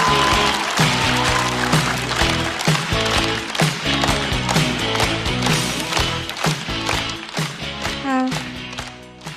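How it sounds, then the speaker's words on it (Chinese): A stand-up comedy audience applauds and cheers as the next comedian is welcomed onstage, with lively clapping over music that gives way as the applause continues. "掌声欢迎"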